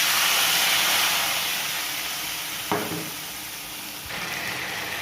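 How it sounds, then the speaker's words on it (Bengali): Potatoes and spice masala sauté in a pan with cumin, dried chilli and asafoetida, a steady loud hiss of frying broken by a couple of brief stirring scrapes, with no talking. "আলুগুলো দিয়ে মশলাটা কষানো হচ্ছে"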